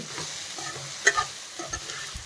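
Leftover chapati cut into noodle strips is tossed in a frying pan, giving a soft continuous sizzle with a few quick scraping stir strokes and light clinks, close by.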